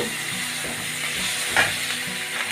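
Chopped onions dropped into hot oil with a pinch of nigella seeds, for a Bengali mustard fish dish, sizzling and hissing steadily at close range with a brief louder crackle partway through.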